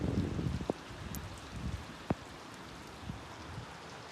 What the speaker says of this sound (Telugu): సడన్గా వర్షం స్టార్ట్ అయిపోయింది.